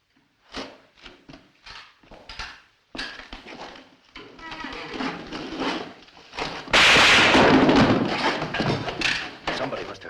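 A sharp, loud gunshot crack in the 1952 film Fear and Desire bursts out amid tense talking, followed by noisy commotion, with several dull thumps scattered earlier.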